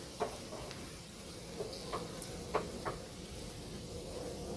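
Diced fresh salmon and onions browning in a pan give a steady, soft sizzle, broken by a few light clicks and taps from stirring.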